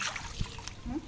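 Water splashing and sloshing in a pooled area of water, a short close burst with a voice speaking underneath.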